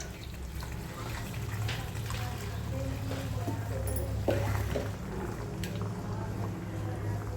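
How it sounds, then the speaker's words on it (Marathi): Water poured into chana dal cooking in a pot, a continuous soft splashing and gurgling close by, with faint clinks from the vessel and quiet voices in the background. "थोडं पाणी घालणार आहोत"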